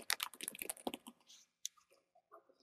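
Quick bursts of keyboard key clicks, dense at first, then sparser taps trailing off, close and quiet.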